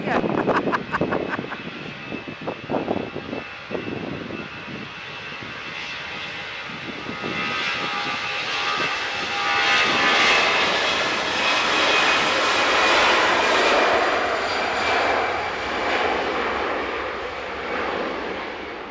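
A passenger jet departs Manchester Airport, its engine roar swelling from a distance and holding loud and broad through the middle before easing, with someone talking over the start.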